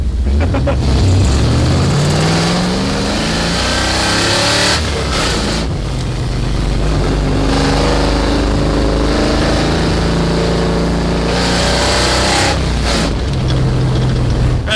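Classic Ford Mustang, originally six-cylinder, with a swapped-in stroked V8 and a four-speed top loader, idling loudly and revving in repeated rising bursts up close, with brief dips between pulls.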